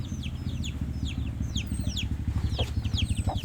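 A flock of chickens and roosters, kept as farm birds, cluck and chatter over a low, rhythmic, pulsing background. The sound is close and continuous, with no talking.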